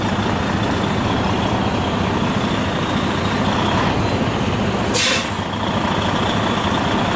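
A semi truck reverses slowly beneath a trailer at a receiver's dock, its engine a steady loud rumble throughout, with a brief hiss of air release in the middle.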